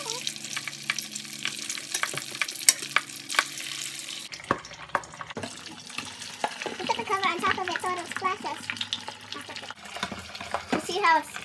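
Oil sizzles and crackles steadily in a pan while frying Haitian griot, with sharp popping splashes, while a person talks over it.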